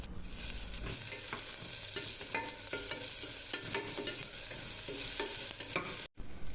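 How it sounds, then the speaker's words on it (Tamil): Onion and ginger garlic paste sautéing in a pan, with steady sizzling frying under repeated scraping stirs of a spoon, close and continuous. "1 ஸ்பூன் இஞ்சி பூண்டு சேர்த்து வதக்கிக்கலாம்"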